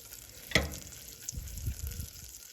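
Butter foams and browns to a golden, nutty stage in a pan, giving a faint, steady sizzle with one sharp clink near the start and soft low bubbling afterward.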